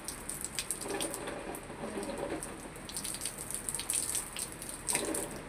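Steady rain falling during a super typhoon in Mandaluyong, Metro Manila, a continuous patter with dripping and splashing water, moderately loud and unbroken throughout, with no voices.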